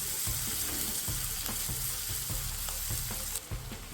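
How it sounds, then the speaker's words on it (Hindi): Onion and garlic sautéing in a pan for tomato fried rice, a steady close sizzle under repeated spatula stirs and scrapes, with no talking. "इन सबको अच्छे से सौते करेंगे। प्याज तो हमको सौते करना है जब तक कि वो थोड़ी सी पिंक ना हो जाए"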